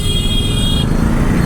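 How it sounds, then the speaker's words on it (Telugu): Busy street traffic near the Hawa Mahal in Jaipur, Rajasthan: a dense, loud roar of engines with a sustained car horn tone sounding through the first part of the short stretch. "ఈ ట్రాఫిక్ ఏదరా నాయన"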